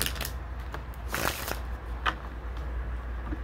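A deck of cards being shuffled up close, a few quick riffling bursts with soft rustling between them, no talking.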